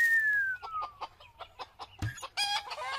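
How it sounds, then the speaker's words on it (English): Chickens cluck in a coop in a Simpsons cartoon scene: a falling squawk, then a run of short rhythmic clucks, ending in louder, harsher cackles close by. "Chickens? Since when do you have chickens?"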